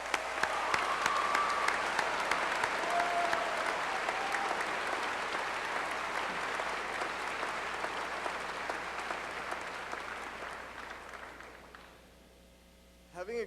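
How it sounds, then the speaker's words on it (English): Audience applause for the teachers at a 2003 high school graduation ceremony. Steady, dense clapping fills the hall for about eleven seconds, then fades to quiet room tone. "Let's give these teachers a round of applause."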